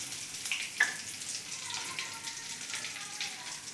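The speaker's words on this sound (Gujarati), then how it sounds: "હવે આપણે એમાં જીરાનો વઘાર કરીશું." A cumin and asafoetida tempering crackles in hot oil, making a steady, fine sizzle with a few brief pops, close and moderately loud with no talk.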